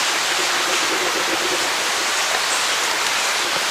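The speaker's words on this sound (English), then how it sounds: "No, that's the water now" Water runs steadily near an old house, a dense, continuous hiss and rush with no breaks, close and fairly loud.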